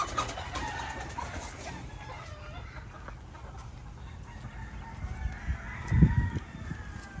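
Caged chickens cluck in a steady background murmur, with a louder fowl call near the end, heard at moderate distance in a rearing area.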